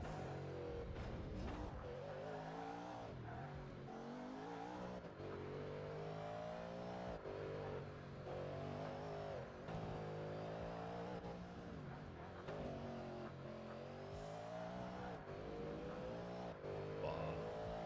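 Race car engine in the V8 Supercars 3 video game, revving steadily with rising and falling pitch through repeated early upshifts on a hilly track, loud and continuous with no talking.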